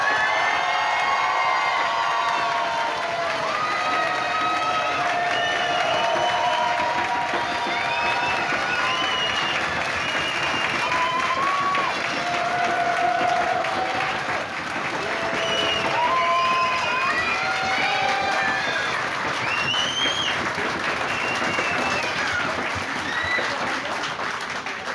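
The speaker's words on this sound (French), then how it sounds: "Un tonnerre d'applaudissements pour Enfisness." Loud, sustained applause and cheering from an adult costume contest audience at a 2019 convention, with whoops and excited shouts rising over steady clapping throughout.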